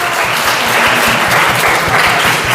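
Loud, close applause fills a Sunday church service, a congregation clapping in a quick, fairly regular rhythm that holds steady from start to finish.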